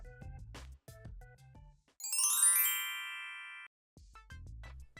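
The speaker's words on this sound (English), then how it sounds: "I've been ringing the doorbell forever and you still haven't answered." An electronic doorbell chimes once with a bright, ringing tone that fades out, between short bursts of low thumping and clatter before and after.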